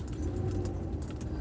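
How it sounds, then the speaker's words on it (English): Car keys jingle and jangle in a light, continuous metallic rattle close by, with the low rumble of a moving car underneath. "the jingling, jangling noise is the keys of my car"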